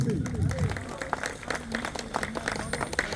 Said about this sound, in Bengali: তালি, তালি, তালি।